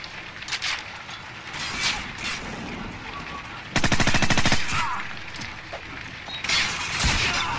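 Gunfire in Call of Duty 4: Modern Warfare comes as loud, close bursts of rapid automatic shots, with scattered single cracks before and after, and no talking.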